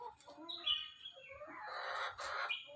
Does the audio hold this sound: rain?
no